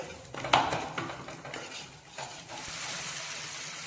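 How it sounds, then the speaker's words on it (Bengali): Spatula scraping and stirring masala paste with sugar in a pan, metal clinks over a steady sizzle of frying spices, close and continuous, no talking. "তারপর আবারও মশলাটাকে ভালো করে কষাতে থাকবো।"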